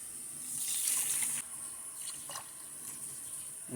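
Water is poured into a cooking pot holding rice, splashing in a short burst that then eases into a softer, fainter trickle, with no voices.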